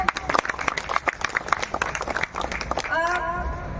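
Audience applause at a Women's Day gathering in honor of Doctor Singh, dense clapping from a crowd that carries on steadily, with a voice over the PA cutting in near the end.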